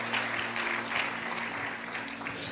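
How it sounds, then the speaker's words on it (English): Church congregation clapping together in steady, dense applause, with a low hum underneath and no voices rising above it. "Can somebody give the Lord a clap offering?"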